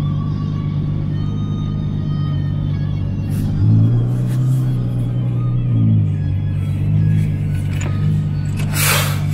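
A Ferrari F12 drives away, its engine a loud, steady low drone with a couple of swelling revs, then fading toward the end.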